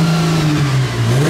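A loud, close Plymouth Prowler engine revs steadily, its deep exhaust note dipping briefly then climbing again.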